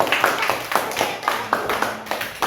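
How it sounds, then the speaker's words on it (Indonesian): A small group claps for group one at a UKIN classroom activity: distinct, fairly rhythmic hand claps close by, repeating at a quick, steady pace. "kasih tepuk tangan yang kelompok satu"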